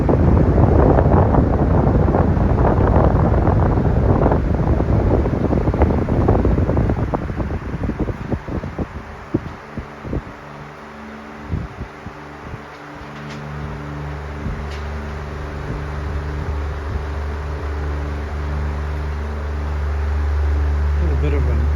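A Westinghouse Tatung 16-inch three-speed Power-Aire oscillating fan runs with a steady motor hum and a faint rattle or bearing noise. Its running sound carries on alone after a stretch of broadband rushing noise at the start.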